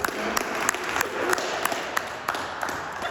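Short burst of clapping from a small group, uneven and lively, with a faint background murmur.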